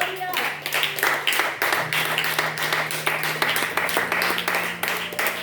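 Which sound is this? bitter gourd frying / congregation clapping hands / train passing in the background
congregation clapping hands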